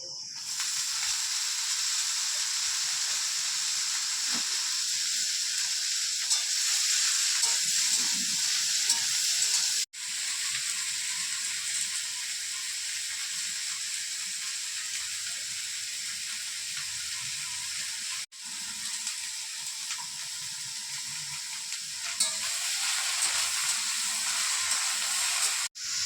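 Vegetables fry in a hot pan with a steady, close sizzling hiss that runs almost unbroken, dropping out briefly twice as if the heat or lid shifts, with faint stirring beneath.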